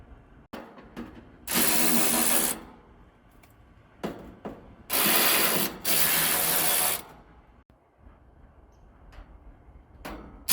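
Short bursts of a socket wrench whirring as screws are removed from an air conditioning unit, two or three loud runs separated by quieter clicks and handling noise.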